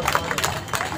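Audience in a Delhi political gathering claps to welcome a guest, a loud, dense patter of many hands close by, with a voice cutting through briefly.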